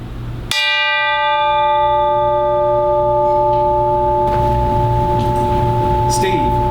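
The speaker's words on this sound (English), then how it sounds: "our one concession to ridiculousness on this album is the hiring of a tubular bell" A single deep tubular bell is struck once on a low D, ringing out with a long, sustained metallic tone that slowly decays under faint background noise.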